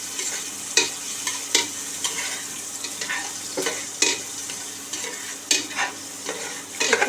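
Onions fry in hot oil in a pan for khichuri, a steady close sizzle broken by repeated scraping stirs of a utensil.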